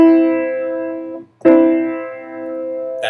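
Two sustained musical notes sound together as a simple harmony, a steady tone that breaks off briefly around the middle and then rings again, clear and alone with no voices.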